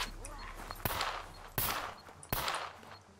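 Three separate gunshots in the video game SCUM, each a sharp crack with a decaying tail, spaced roughly evenly over a few seconds against a quiet background.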